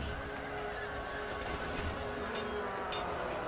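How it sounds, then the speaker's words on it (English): Horses neighing in the video game Wildlander, faint whinnies and stray clip-clop set in a steady, dense background wash with no clear speech. "Look at them fuzzy horses."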